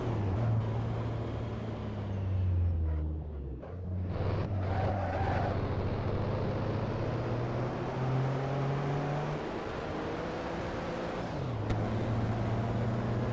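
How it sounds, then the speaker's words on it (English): A 1950s Ferrari racing car's engine drones continuously in Assetto Corsa at the Pau Grand Prix, its pitch rising and falling through gear changes as it approaches amid other cars. "Here comes the Ferrari."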